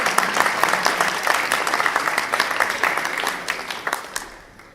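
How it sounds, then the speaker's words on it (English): An audience at a school reading competition claps for a prize presenter. The dense applause is steady, then thins and fades out near the end. "Let's give Miss Harmon a nice round of applause."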